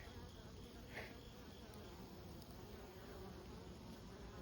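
Honeybees forage on white snakeroot weeds in autumn, a faint steady hum of many wings close by and unbroken, with no voices.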